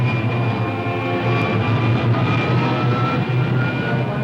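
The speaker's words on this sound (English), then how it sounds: "Fire pilot jet. Fire pilot jet." Rocket ship pilot jet firing in a 1950s Space Patrol / Commando Cody style space serial, a loud, steady roaring rush with a constant low hum running unbroken throughout.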